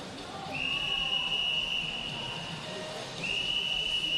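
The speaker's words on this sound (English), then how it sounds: "We're about to hear the whistles blowing in their ears." Officials at a long-course swimming championship blow two shrill, sustained whistle blasts, the first lasting a few seconds and the second starting just after, over a low hum of the pool hall.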